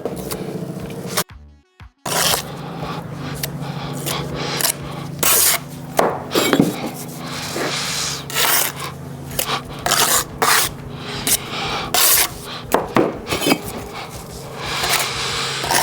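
A freshly laid brick is rubbed down with a tool to level it against the one beside it, giving a close, continuous gritty scraping in uneven strokes, with a short pause near the start and no talk.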